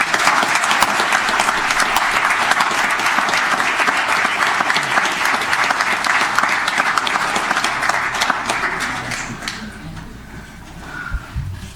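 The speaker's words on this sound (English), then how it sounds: "Can we give a round of applause again?" Sustained, full applause fills a school board meeting room for a student honoree, holding strong for around nine seconds before thinning out and trailing off into near quiet.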